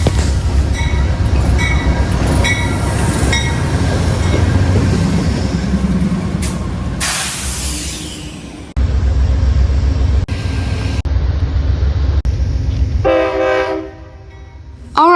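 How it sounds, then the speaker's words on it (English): A train pulls away from a Lakeland station, its heavy rumble and rail noise steady and loud, broken by a burst of hissing air and brief squeals. A horn-like tone sounds near the end, with no voices. "now with the train declaring its departure"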